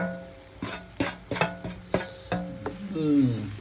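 Masala and coconut are stirred and fried in a pan, giving a series of quick scraping spoon strokes over a soft sizzle, close and fairly quiet, with no voices.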